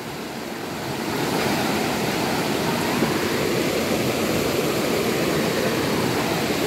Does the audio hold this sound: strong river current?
yes